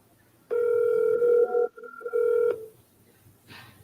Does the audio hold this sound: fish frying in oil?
no